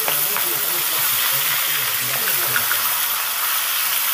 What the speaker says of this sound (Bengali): দু পিসটাকেই আমি সুন্দর করে ভেজে নেব